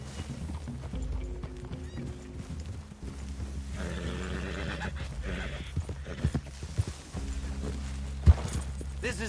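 Horse hooves in the game Red Dead Redemption 2 clip-clop steadily at a walking pace, with soft snorts and faint voices in the background.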